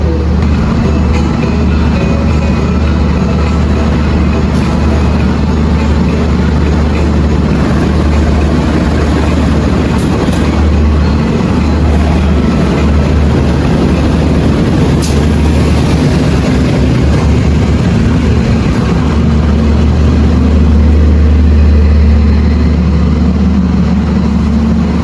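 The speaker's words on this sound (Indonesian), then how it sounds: "kereta api Bangunkarta sudah sampai di jalur 2" The Bangunkarta economy passenger train on the Jombang–Jakarta route stands at track 2 of a station, giving off a loud, unbroken low rumble and hum that holds steady throughout.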